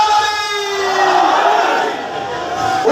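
A large crowd at a religious gathering shouts back a slogan in unison. The roar is loud, sustained and massed, with voices rising and holding across the whole stretch.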